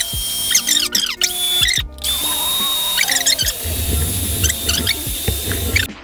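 A drill mixing 500 grams of part A with 250 grams of part B two-part epoxy resin whirs in short, high-pitched bursts that stop and restart, then settles into a sustained whine with a churning, sloshing rumble beneath.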